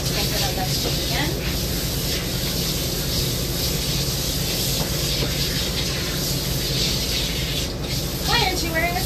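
A strong water spray rinsing a doodle dog during grooming, a steady loud hiss running throughout with faint voices in the background.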